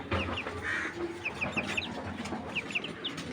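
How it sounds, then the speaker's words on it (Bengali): Chickens at a poultry market in Bangladesh give short clucks and chirpy calls, scattered across a busy, noisy background at moderate distance. "দেখেন মুরগিগুলো জাস্ট আপনারা একটু সময় নিয়ে দেখেন"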